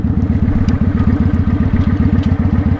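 A motorcycle engine runs steadily close by, its low, rapid, even thumping pulse holding throughout with faint rattling clatter on top and no speech.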